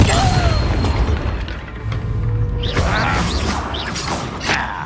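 A Bombarda blasting spell goes off in Hogwarts Legacy, a heavy booming explosion followed by crumbling debris, creaking and clattering mechanical game effects, with a short synthetic chime swirling in after the blast.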